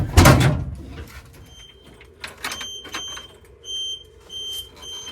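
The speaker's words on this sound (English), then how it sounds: "That's a backup buzzer." A faint, steady high-pitched vehicle backup buzzer on a G30 repeats in short pulses behind scattered clatter, with a louder bump at the start.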